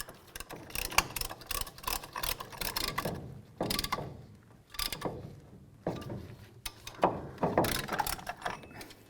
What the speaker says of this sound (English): Now I'm going to use a caliper depression tool that pushes back both the pistons at the same time.